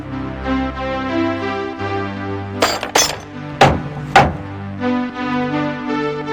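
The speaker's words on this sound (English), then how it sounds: "drowned out by an orchestra of hammers," In a mobile workshop on the 1989 Variety Club Bash from Bourke to Broome, a few sharp metallic hammer strikes ring out at uneven intervals over a steady tonal musical backdrop.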